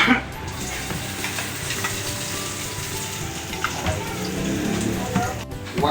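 Onions sizzling in a hot pan while a Filipino Bicol express pork dish is prepared, giving a steady, fairly faint frying hiss with a few stirring scrapes and a brief bit of talk.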